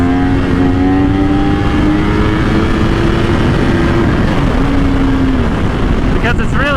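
A 1000cc sport motorcycle screams under hard acceleration through a wheelie, its engine note holding high and steady before shifting, loud and close with strong wind noise throughout.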